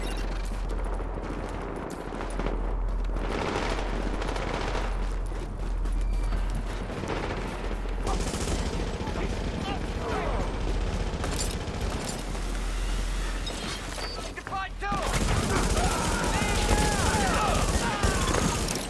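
Sustained gunfire from hostile enemies in The Division, a dense, loud fusillade of rapid shots running throughout, mixed with game effects and shifting to a busier burst near the end.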